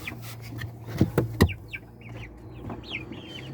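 A blind hen of an old fighting-chicken breed clucks nearby, with a few sharp louder calls early on followed by softer chirping clucks from fowl.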